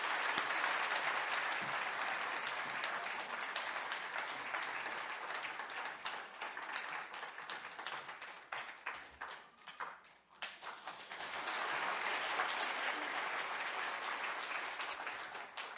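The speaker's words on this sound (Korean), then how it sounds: "우리 목사님 그동안 수고하고 애쓰셨다고 박수로 모시겠습니다" Sustained audience applause fills a church gathering honoring a pastor after 34 years of mission work among the Lahu people, steady and dense, thinning briefly near the middle before swelling back to full strength.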